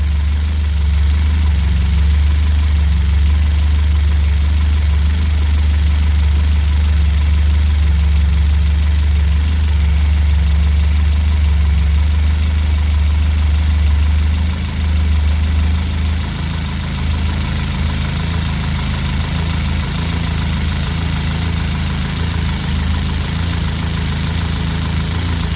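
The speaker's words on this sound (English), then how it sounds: "See how it starts to lope again?" A 1979 Fiat Spider 124 engine idles running too rich, a loud, close, continuous low rumble with an uneven, loping rhythm and no talk over it.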